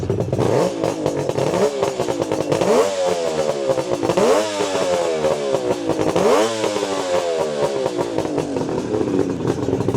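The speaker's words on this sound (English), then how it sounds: "Give you a little listen to the engine. Super smooth." A 1975 Suzuki GT550 two-stroke triple idles up close through Higgspeed expansion chambers, throttled in several quick blips that rise and fall over a steady, raspy running note.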